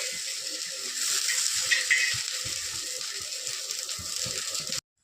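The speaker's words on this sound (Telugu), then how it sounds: "ఇది బాగా వేపుకోవాలి ఫ్రెండ్స్" Food sizzles steadily in a hot pan, a continuous close hiss with faint scraping, then it cuts off abruptly near the end.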